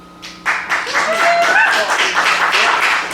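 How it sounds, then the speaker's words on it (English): An audience applauds after a poetry reading, with a burst of clapping that swells quickly and holds steady, mixed with voices cheering and whooping. "Round of applause."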